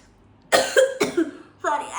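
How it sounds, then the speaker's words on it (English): A person with a cough from the monsoon season coughs in two harsh, close bursts, the first a double hack, then a rougher cough follows, loud and alone. "sorry, I got a cough because of this monsoon season"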